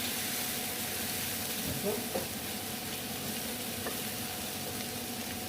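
Spice masala for an egg and ridge gourd (jhinga) dish fries in a pan with a steady sizzle, stirred now and then with a few soft scrapes and clinks, close and continuous without talk.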